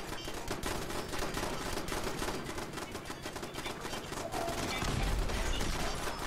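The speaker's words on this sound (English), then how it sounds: "Oh, they're shooting each other." Automated turrets in the video game Fallout 76 fire at each other in a dense, continuous rattle of rapid gunfire, loud and busy throughout with no pause.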